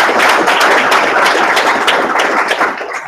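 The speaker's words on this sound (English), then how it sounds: "And let's give the speakers one more round of applause." A small meetup audience applauds the speakers with steady, dense hand clapping that stays loud and close for a few seconds before thinning out at the end.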